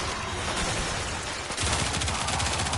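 Rapid, continuous gunfire from the Galaxion weapon in a sci-fi video game, loud and dense throughout, with a sharper burst of repeated shots partway through and no voices.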